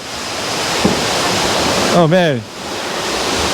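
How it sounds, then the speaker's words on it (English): Steady, loud roar of a waterfall at The Garret Mae Kampong hotel fills the whole stretch, close up and constant, with a man's brief exclamation heard over the rushing water. "And then you have a close-up of the waterfall."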